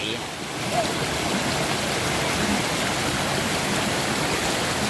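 Steady broadband rush of a waterfall close by, constant and enveloping, with no clear breaks.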